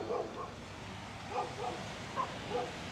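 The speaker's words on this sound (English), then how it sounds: "Dogs barking at the ocean." Dogs bark in short bursts at a distance on Steeplechase Pier, Coney Island, several yips spaced across the stretch over a low windy background.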